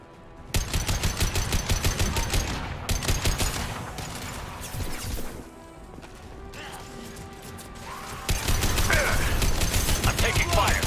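Rapid gunfire in the video game Mass Effect comes in dense, loud bursts of repeated shots, pausing briefly mid-clip before a heavy volley resumes near the end.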